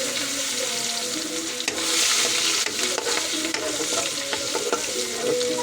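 Ginger sizzles loudly in a pan for adobo tilapia, stirred the whole time, with scraping strokes and crackling spatters over a constant close frying hiss.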